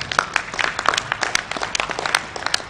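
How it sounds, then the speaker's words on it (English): Audience applause at a conference on financial fraud and cyber crime, a steady run of sharp claps filling the whole stretch as a speaker is welcomed to the stage. "A round of applause for Dr."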